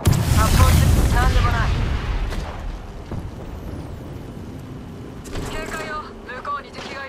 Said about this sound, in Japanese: テルミットを投げる。